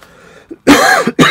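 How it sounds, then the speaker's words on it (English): A person with a cold coughs in a loud, close burst, followed by a short second cough after a brief pause, with a small throat sound just before. "I'm sorry if I coughed on the camera here on the video."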